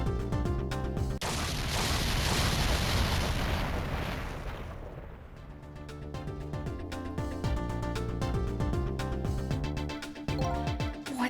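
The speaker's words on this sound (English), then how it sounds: "I think I heard an explosion somewhere." An explosion erupts in the video game Ghost Trick: Phantom Detective as a heavy, rumbling burst that holds for several seconds and then fades. Sharp rhythmic pulses and tones follow the blast.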